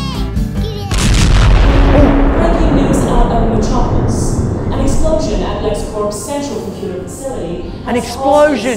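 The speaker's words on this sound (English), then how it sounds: "An explosion!" A cartoon explosion erupts with a heavy boom and long rumbling, crackling decay that gradually fades, followed by scattered bright clattering and debris-like bursts near the end.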